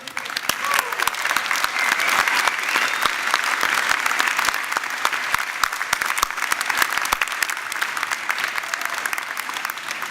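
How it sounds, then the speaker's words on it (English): Sustained applause for faculty on stage at a university arts and sciences convocation, a large audience clapping densely and evenly for the full stretch, loud and close, with no voice breaking through. "how about a big round of applause for the faculty on stage as well?"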